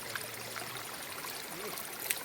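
Steady faint rush of a natural forest stream, an even, continuous trickle with no voices.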